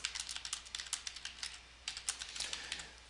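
Rapid, light clicking of fingers typing on a computer keyboard, coming in quick irregular bursts with brief pauses, fairly quiet and close, with no voices.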